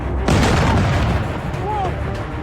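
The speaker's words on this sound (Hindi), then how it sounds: "धमाके हुए, Whoa!" A deep explosion booms in news footage of an Iranian attack on Dimona, Israel: one loud blast with a long rumbling decay, and no speech over it.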